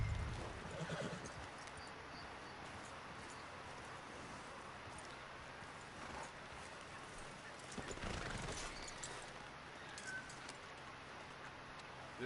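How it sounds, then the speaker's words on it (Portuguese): In Red Dead Redemption 2, a horse neighs and its hooves clip-clop at a walking pace. The sounds stay faint beneath a constant hiss of outdoor ambience. "There's the cane. Get your horse."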